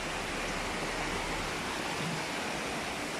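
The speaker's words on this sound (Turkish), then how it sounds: "dağdan gelen ve harıl harıl akan, şarıl şarıl akan oluklarıyla beraber şırıl şırıl akar" Mountain spring water pours from troughs in the town of Dündarlı, a loud, steady broadband rush of flowing water heard up close with no pauses.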